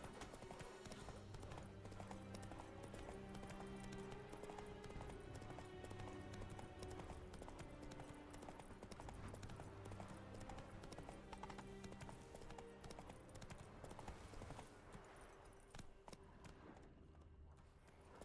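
Galloping horse hooves in The Witcher video game, a fast steady drumming beat close and loud throughout, with faint game ambience underneath; the hoofbeats thin out near the end.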